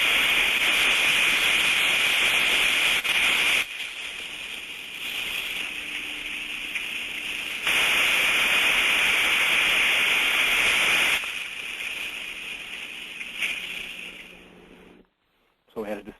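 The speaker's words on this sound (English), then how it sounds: "So a good trap, we're looking for that distinct on-off cycle, and it's going to sound like this." A working steam trap tested in a steam system, heard as loud steady hissing that switches between stronger and softer bursts in a distinct on-off cycle before cutting out near the end.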